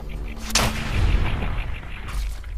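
Gunfire in the video game Fallout 4 rings out as a loud close shot with a rumbling tail, followed by further firing and a roaring background in a game battle.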